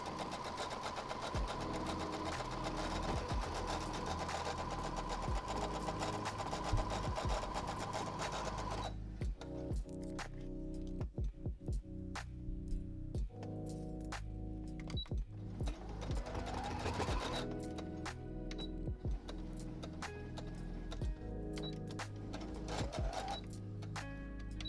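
A sewing machine stay-stitching along a fabric edge runs in steady bursts, stitching forward, pausing, then running again in reverse, its rapid mechanical hum close and loud with short stops between runs.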